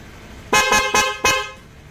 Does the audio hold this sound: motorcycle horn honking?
yes